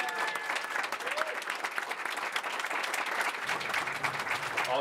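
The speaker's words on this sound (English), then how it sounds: "let me have you just give a round of applause." Family and friends at a church baptism celebration give a sustained round of applause, steady, dense clapping heard from within the room with faint voices underneath.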